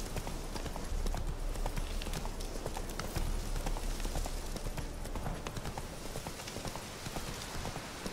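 Hooves of Roach, Geralt's horse in Witcher 3: Hearts of Stone, clip-clopping in a steady trotting rhythm over muddy ground, close and continuous with soft ambient noise behind.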